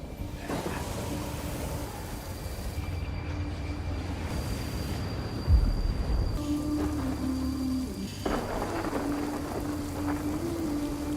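Rain falls steadily in a TV drama scene, a continuous broadband hiss with a brief low rumble in the middle and faint tonal score underneath, no talking.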